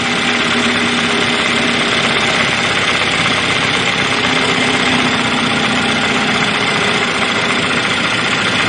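A 2013 Chevy Malibu engine with a suspected ground fault idles in a steady, loud mechanical hum that carries on without break and with no talking.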